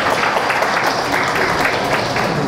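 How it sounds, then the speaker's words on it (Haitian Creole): An audience applauds in a dense, continuous patter of clapping that holds steady for a few seconds. "je pense qu'on mérite de les applaudir encore une fois"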